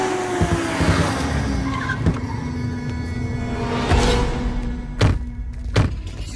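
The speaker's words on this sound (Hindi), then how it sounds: "गाड़ी रोक रहे।" A car on a street rolls to a halt, tyres briefly squealing as it brakes, followed by a couple of sharp door-like thunks near the end; no voices.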